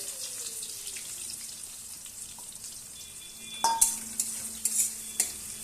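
Onions frying in a pan on a stovetop, a low continuous sizzle with a few sharper clinks and scrapes of stirring near the end.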